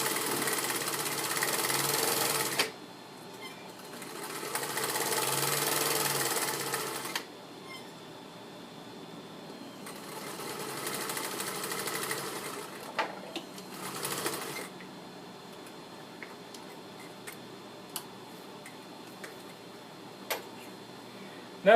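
A sewing machine stitching fabric and lining together for a swag, running in a few short bursts separated by pauses, followed by quieter scattered ticks and clicks from the machine.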